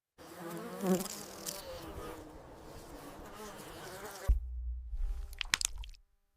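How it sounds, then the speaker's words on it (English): Insects buzz around an open wound in a dense, continuous droning hum that runs for several seconds, then cuts off to a lower rumble with a few faint buzzes and clicks. "A single open wound became a feast for insects."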